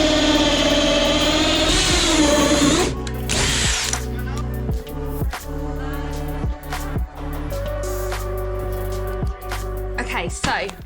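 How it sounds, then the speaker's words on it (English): A power drill bores holes for lights in a van being converted, running in several bursts with short pauses, loud and close, with ratcheting clicks between runs. "Let's get the holes drilled then for these lights."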